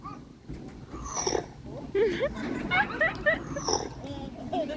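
A bird at a bird show mimics a pig's grunting oinks in a few short, squeaky bursts over a muffled background with light chatter.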